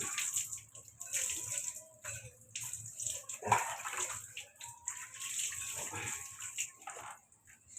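Hot water pours and splashes into a tub in uneven bursts, fairly quiet and close, with brief pauses between pours.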